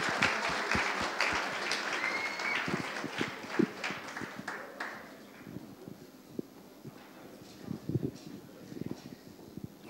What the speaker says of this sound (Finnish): Aplodit vielä kertaalleen koko porukalle.